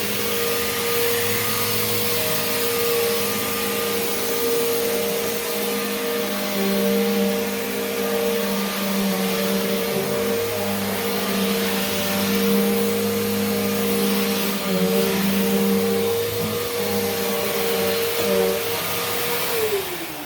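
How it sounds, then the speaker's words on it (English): A Bissell Powerforce Helix Turbo 68C7 vacuum cleaner drones steadily and loudly nearby, its motor hum holding a constant pitch with slight shifts as it works. "Pull the vacuum out."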